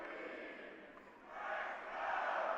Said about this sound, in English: the Virginia Tech Spirit Squad getting the crowd going here